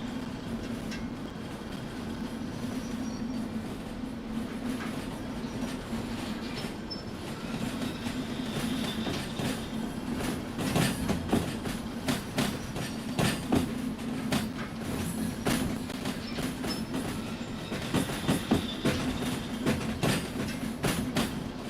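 A heavy freight train in the Derail Valley railway game, hauling about 1982 tons behind four engines, rolls steadily along the rails with a constant low rumble and a sequence of sharp wheel clacks and metallic squeals, with no talking.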